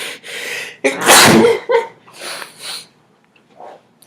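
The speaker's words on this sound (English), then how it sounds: "I don't know if I have to sneeze." A single loud, close sneeze comes with an inhaled build-up, followed by a few sniffs and breaths.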